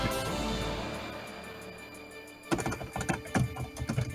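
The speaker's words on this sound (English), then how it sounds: "He's typing out his stuff." Keys on a computer keyboard clatter in short irregular bursts of close, crisp clicks that grow busier toward the end, heard under a faint steady background hum during a tabletop role-playing session.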